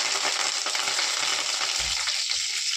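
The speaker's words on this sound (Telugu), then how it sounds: "అందుకని కరివేపాకు వేసేస్తున్నాను తాలింపుకి" Curry leaves crackle and sizzle steadily in hot cooking oil for a tempering, a dense, close frying hiss that runs the whole time with a faint low thump near the end.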